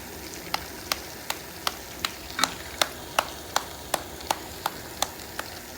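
Kachoris frying in hot oil: a steady background sizzle with sharp, evenly spaced pops or clicks repeating about every half second.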